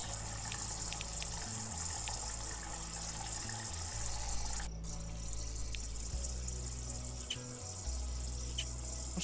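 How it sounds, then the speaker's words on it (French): Water runs steadily from a newly installed tap during a zoo renovation, a continuous broadband rush with low pump-like hum that shifts in level, close and uninterrupted with no voices. "Alors, installons le nouveau robinet."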